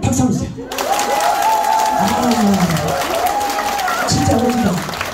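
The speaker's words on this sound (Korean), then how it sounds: "자 우리 춤추자님 박수 한번 주세요" Applause from the audience of a singing class, a steady crackling patter that runs the whole time beneath a voice speaking or singing over it.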